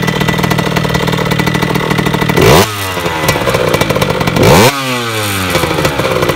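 A Yamaha DT 50cc motorcycle fitted with a 70cc kit runs at a fairly high idle, a loud, steady two-stroke clatter close by, with two quick throttle blips that rise and fall in pitch.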